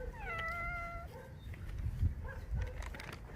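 Big cats at a tiger enclosure, a short drawn-out meow-like call opening the clip, followed by faint thumps and low rustling at a quiet level.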